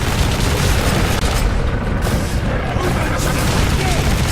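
Bomb squig explosions in the Warhammer 40,000 Space Marine video game make a dense, continuous booming roar, with blasts and bursts piling up loudly at close range throughout.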